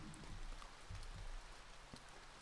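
Steady rain hiss in the video game To The Moon, with scattered drops tapping a surface, fairly quiet and continuous, with no voices.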